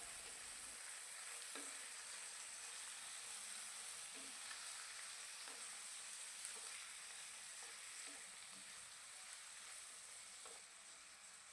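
Duck meat frying over a high gas flame gives a faint, steady sizzle with soft, occasional stirring clicks throughout, and no talking.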